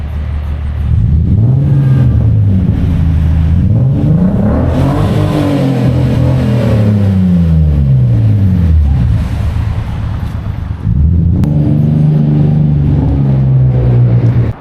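Four-door car revving on an Osaka street at night, loud and close: repeated surging revs climbing and falling in pitch, then a final sharp burst of throttle after a brief dip.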